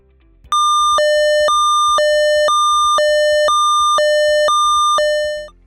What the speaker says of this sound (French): En cas de danger potentiel, vous entendrez ce signal, suivi d'une annonce.